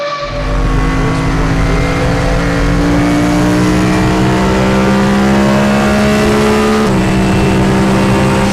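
A very loud car engine revving hard and holding high revs with a steady roaring drone, a brief dip and climb in pitch near the end, up close with no talking.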